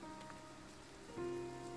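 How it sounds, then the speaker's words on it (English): Rain patters steadily on surfaces in the video game Triangle Strategy, a soft continuous wash with a faint musical tone entering partway through. "I doubt the rain will let up into the center."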